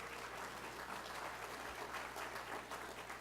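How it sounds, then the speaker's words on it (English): A crowd at a homecoming gathering applauds, a steady wash of clapping heard from some distance with a faint low hum underneath. "So we can give them a round of applause for all their support."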